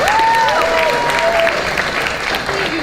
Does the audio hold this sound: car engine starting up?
no